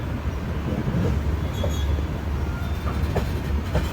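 The Godavari Express rolls along the rails, a loud, close, continuous rumble with rhythmic clatter and a few faint squeals, heard from on board.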